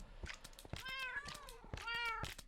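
Minecraft cats meow repeatedly, several clear drawn-out mews overlapping with clicks and game sounds, fairly quiet and close.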